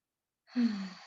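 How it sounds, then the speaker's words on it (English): One slow, deep breath is drawn and let out softly and close, a brief airy sigh after a moment of silence. "And let's breathe deeply."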